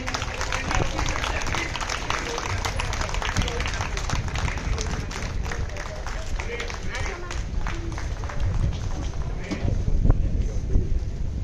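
A crowd at a village centenary celebration in Bhoutsad, Navsari, Gujarat gives dense, continuous applause for a visiting collector, steady and fairly close for the whole stretch, with faint voices mixed in.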